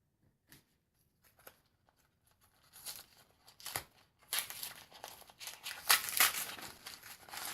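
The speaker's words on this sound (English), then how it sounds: "Trying to find the fold so I know where to cut." A crinkly plastic package is handled and cut open, starting with a few faint isolated rustles and then building into loud, dense crinkling and tearing close to the microphone.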